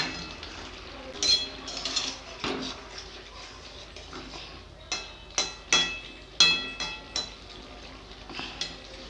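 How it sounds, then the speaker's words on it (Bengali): Fried fish pieces go into a simmering radish and potato curry in a pan, with irregular metallic clinks and scrapes of utensil against pan, some sharp and close, separated by quiet gaps. "এবারে ভেজে রাখা মাছগুলো দিয়ে দেব"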